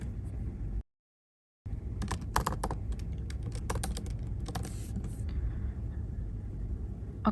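Quick, uneven clicks of a computer keyboard as an email address is typed, close and crisp, over a low steady rumble of background hum, with a brief silent gap near the start.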